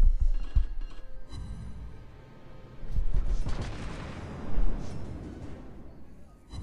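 Naval guns firing in World of Warships gameplay aboard a Cleveland cruiser, heavy booming salvos with rumbling blasts and rolling echoes, several shots spread across the stretch, loud and layered over a steady game backdrop.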